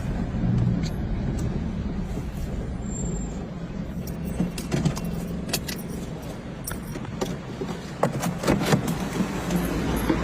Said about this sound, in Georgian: ნახე ხალხო სუსის მანქანას მივსდებ რომ გააჩეროს